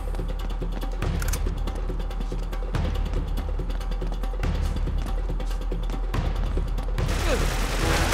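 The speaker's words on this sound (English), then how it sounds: "I'm hearing gunshots now over there" Gunfire rings out in the action game Uncharted 3, with bursts of shots and booming impacts at fairly regular intervals over a continuous game soundscape, moderately loud and without speech.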